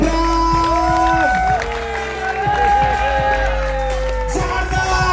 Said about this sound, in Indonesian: Tepuk tangan yang meriah untuk Mas Bram